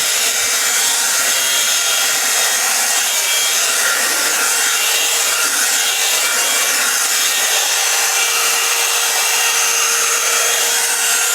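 Hair dryer blowing on wavy hair, a steady loud broadband whoosh running continuously throughout with slight fluctuations in airflow and no talking.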